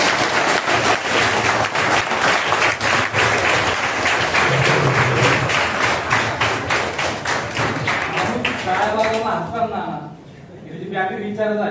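Dense, steady audience applause at a felicitation ceremony for students who passed MPSC and LLB exams, loud and continuous for about nine seconds before fading into a man's speech.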